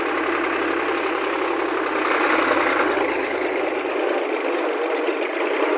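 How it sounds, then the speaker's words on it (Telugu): A Solis 4215 tractor, a heavy-duty 45 HP machine, pulls a seven-bottom plough through a field, its engine droning steadily and loudly throughout with a rough, gritty mechanical rumble and no voices. "4215 ట్రాక్టర్ మనది దూసుకొని పోతున్నటువంటి డెమో వీడియో చూడండి."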